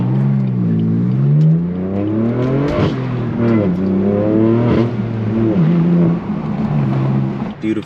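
A straight-piped BMW M4 F82 accelerates from close by, its engine revving loudly with rising and falling pitch through several gear changes, with no talking.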